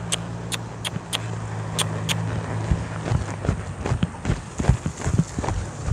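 A ranch horse's hooves clip-clop in a steady trotting rhythm on a hard surface, close by, with a few sharp clicks early on and low background noise.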